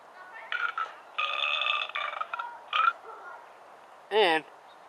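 A burp sound effect made of a string of croaky, rasping bursts with short gaps between them, ending in one louder, wavering belch. It plays alone at moderate volume.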